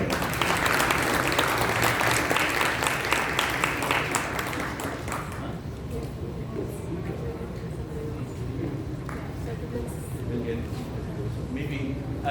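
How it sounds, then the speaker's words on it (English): A crowd at an interfaith Iftar gathering applauds with dense, loud clapping for about five seconds before it thins out into scattered claps and room murmur. "So let's give her a round of applause."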